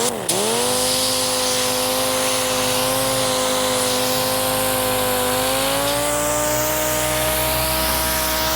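A dual-action sander with 120-grit paper strips paint from the roof of a 1970 Chevelle, a steady close whirring whine with a faint pitch dip at startup, running alone without talk.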